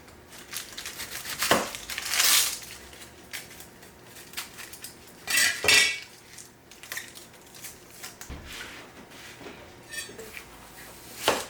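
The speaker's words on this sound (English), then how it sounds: "First I'm going to cut up an onion" Knife cutting up an onion or two on a board for homemade tomato sauce: irregular close crunching slices and taps, with a few louder chops scattered across the stretch.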